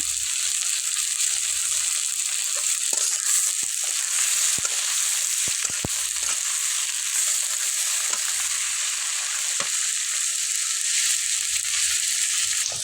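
Fresh tengra fish dropped into a pan of tomatoes and frying, a constant loud sizzle with occasional spatula scrapes and knocks, close up and without speech.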